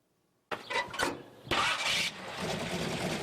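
A race car engine cranks and fires after a moment of silence, catching with a couple of sharp bursts. It then settles into a loud, rough idle close by.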